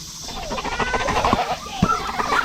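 Chickens settled in a small hen house cluck and murmur close by in a steady, busy run of calls, with one sharper squawk near the end and no talking.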